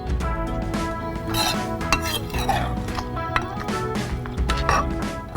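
A spoon scraping and clinking in a metal pan while Pallipalayam chicken is mixed, with busy, close stirring clatter and a soft sizzle underneath.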